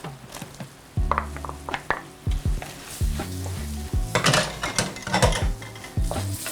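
Lobster tossed into a hot pan sizzles loudly while a utensil scrapes and clacks against the metal in irregular stirring strokes, close and without any talking.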